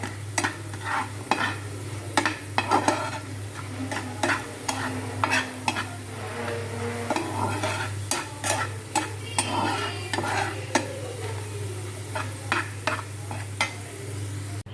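Black cumin (kalo jira) paste ground by hand on a traditional stone slab and grinder, heard as repeated rhythmic scraping strokes close by over a steady low hum.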